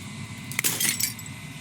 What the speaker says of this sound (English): As the final fragment of glass shatters, you see yourself with newfound clarity.